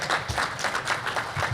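Brief applause from a seated audience at a membership meeting, a moderate burst of clapping with uneven pulses that continues through the short stretch.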